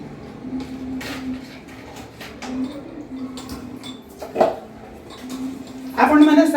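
Dishes and utensils are washed on a Sunday morning of house cleaning, with intermittent clinks, knocks and clatters scattered through and a louder clattering burst at the end, over a low background hum.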